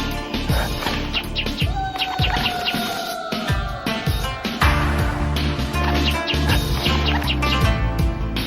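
A small bird chirps and tweets in quick bursts, with a rising whistled call, over a busy background of other sounds.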